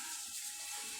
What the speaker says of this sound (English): So the dumpling is being fried right now.